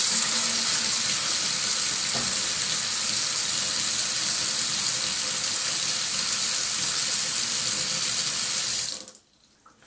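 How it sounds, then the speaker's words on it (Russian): Water runs and drains steadily and loudly down a freshly unclogged sink drain for several seconds, then cuts off abruptly near the end. "Смотрите, вода сразу же начинает хорошо уходить."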